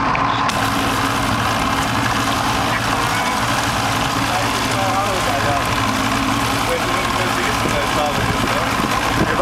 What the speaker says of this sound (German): Warte, ich filme den Motor, wenn du Gas gibst.